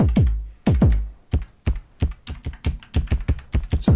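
Clicky keys on a Teenage Engineering KOii sampler pressed one after another, loud close plastic clicks, sparse at first and then quickening into a rapid uneven run.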